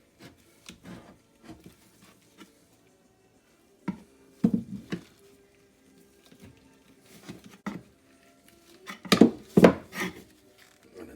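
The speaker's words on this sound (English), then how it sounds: "we're going to pump grease into it with our packer" A grease packer pumps grease into a trailer wheel bearing, giving irregular squelching, rubbing strokes that come in short clusters and grow louder near the end, close by with no talking.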